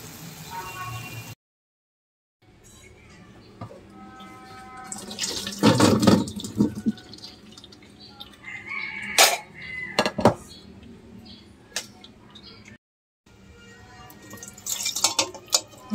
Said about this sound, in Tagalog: tatanggalin ko yung tubig niya, tatapon yung tubig